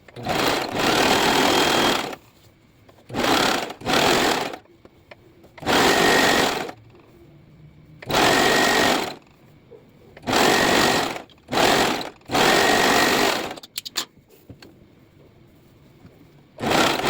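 Sewing machine stitching a seam on a lined A-line skirt, loud steady whirring runs repeated in several bursts of one to two seconds with short pauses between, no talking.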